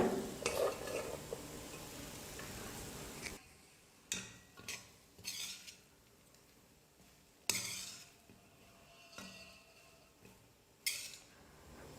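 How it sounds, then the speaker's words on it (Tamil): Rice being stirred into mint thokku in a hot pan, a spoon scraping and mixing in a dense burst at first, then scattered short scrapes and clinks against the pan. "புதினா தொக்கு கொஞ்சம் அதிகமாக இருக்கிறதுனால கொஞ்சம் சாதம் சேர்த்து மிக்ஸ் பண்ணிக்கிறேன்."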